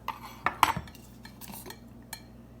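Cutlery clinks as a fork is fetched in a kitchen: a few bright metallic clatters early on, then lighter scattered taps against dishes, close and fairly quiet with no voices.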